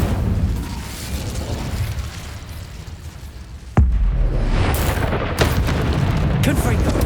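Spell explosions go off in the Hogwarts Legacy video game during a fight: loud, deep booms over a constant rumbling din, with a sharp burst near the middle followed by further heavy blasts.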